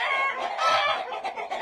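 Brahma chickens clucking close by on a poultry farm, a burst of several rapid throaty clucks and squawks from the birds, loud and near.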